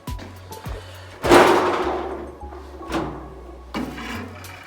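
Garage tool cabinet drawers sliding open and shut, a series of metallic thuds and rattling slides at close range, one louder clunk early, over a low steady background hum.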